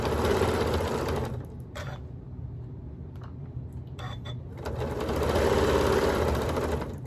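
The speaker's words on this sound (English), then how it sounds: "I'm just going to start stitching" A sewing machine stitching a rag quilt block runs steadily with a fast, close mechanical whir, pauses for a couple of seconds with a few clicks, then starts up again at full speed.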